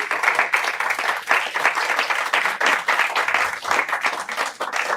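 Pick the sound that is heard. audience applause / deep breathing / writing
audience applause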